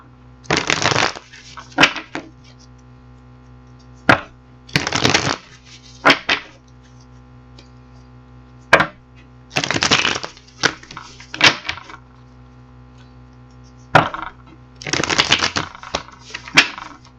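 Four bursts of tarot cards being riffled and shuffled, each a short rapid flutter, with a few sharp taps and snaps between them over a low steady hum.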